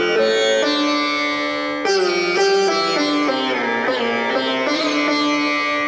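Sitar tone from a Korg Kross 2 keyboard, sounding as a continuous plucked melody with bright, buzzing harmonics and a drone-like sustain, played alone at steady volume with a brief dip midway.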